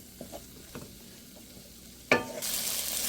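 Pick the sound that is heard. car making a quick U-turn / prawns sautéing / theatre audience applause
prawns sautéing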